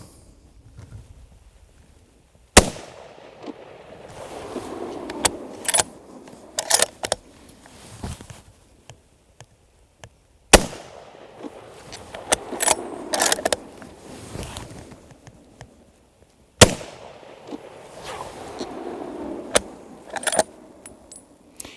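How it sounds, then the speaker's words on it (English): Three sharp, loud rifle reports spaced several seconds apart, each followed by a stretch of rustling and mechanical handling noise before the next shot. "we'll take a couple shots, see how it works"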